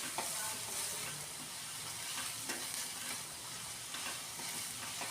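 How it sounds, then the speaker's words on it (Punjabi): Chopped tomatoes and green chilies frying in a pan, a soft continuous sizzle with faint stirring scrapes, steady and low in level, with no voices. "ਇਹਨਾਂ ਨੂੰ ਆਪਾਂ ਥੋੜੀ ਦੇਰ ਫਰਾਈ ਕਰਾਂਗੇ ਤੇ ਹੁਣ ਮੈਂ ਪਾ ਦਿਆ ਟਮਾਟਰ ਤੇ ਹਰੀਆਂ ਮਿਰਚਾਂ"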